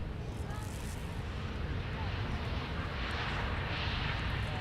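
A heavy jet airliner rumbles steadily at Minneapolis–Saint Paul airport, a loud continuous engine roar filling the scene with broadband noise that swells slightly toward the end, heard from an outdoor viewing area.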